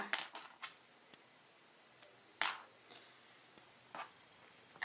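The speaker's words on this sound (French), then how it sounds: "Et là, à présent, je coupe." Scissors cutting fabric for a cat-ear hat: a handful of sharp, separate snips spaced irregularly across quiet, each a brief crisp bite through the cloth.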